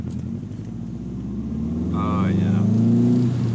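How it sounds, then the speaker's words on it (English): A turbocharged 2006 Subaru WRX with an STI engine swap accelerates from inside the cabin, its steady engine drone swelling louder over a few seconds while someone briefly speaks. "Gotta hear a little turbo"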